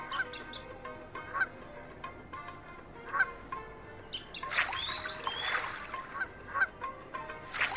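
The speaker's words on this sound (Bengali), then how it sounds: "হাঁসটা বেরিয়ে যাচ্ছে সামনে দিয়ে" Ducks honking in the Meena mobile video game, a string of short, nasal, game-style honks and calls that come in irregular bursts over quiet background music.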